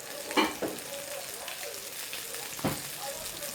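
Broccolini cooks in lemon and butter with a soft, steady sizzle, punctuated by a few sharper knocks and scrapes of a utensil against the pan.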